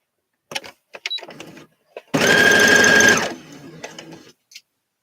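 A sewing machine stitching bias binding runs in one steady, fairly loud burst of about a second, with speech before and after it.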